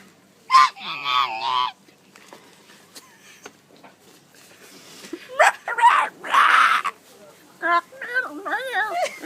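A person imitates a rooster crowing with several voiced, honking calls in bursts, close to the mic, with short pauses and background chatter between the calls.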